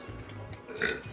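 A man lets out a single short, throaty burp, loud and close, with faint background murmur around it.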